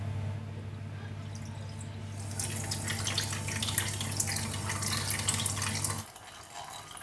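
Melted beeswax pours through a filter into a bucket in an improvised wax-straining setup, giving a steady close liquid splashing and trickling that grows brighter partway through and then thins to light drips.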